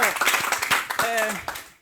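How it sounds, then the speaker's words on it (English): A brief burst of clapping for viewers greeting a school program on Savane TV, close and lively, with voices talking and calling out over it. "Clap for them"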